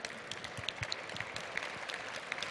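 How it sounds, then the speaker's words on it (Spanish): An audience at a gourmet cooking event claps for the presenters in a steady, moderately faint patter of many hands, with a few sharper individual claps standing out. "un aplauso para ellos"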